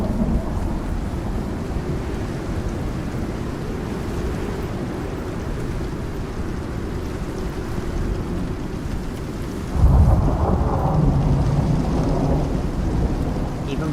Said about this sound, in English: Thunderstorms like these are just the worst, you know.